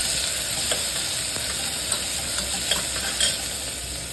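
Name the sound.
onion, green chili and curry leaves sautéing in pan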